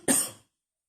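A single short, sharp cough up close, ending abruptly in silence.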